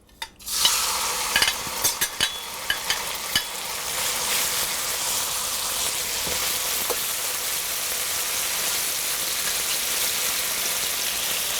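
Beef hits hot oil in a pan with a sudden loud sizzle that settles into a steady, close frying hiss, with a few scraping stirs and clicks early on and no talking.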